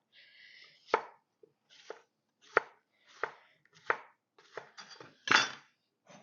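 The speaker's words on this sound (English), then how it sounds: "So I'm just going to chop him up." A knife chops vegetables for a refrigerator garden salad on a board, about ten separate sharp cuts spaced irregularly, close and clear with no talking.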